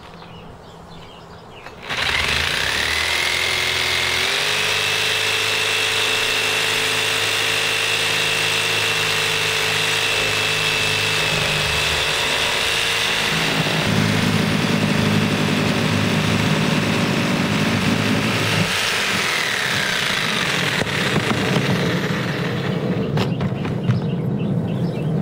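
A Black & Decker power saw cuts into a plastic Rydlyme container, starting abruptly and then whining steadily for over twenty seconds, its pitch and load shifting as the blade works through the material.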